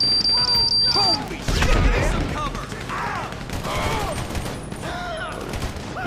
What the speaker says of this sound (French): il y en a un autre qui me tire dessus.